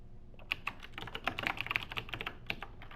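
Typing a product name on a computer keyboard, with a steady run of close, crisp key clicks in an uneven rhythm over a low room hum.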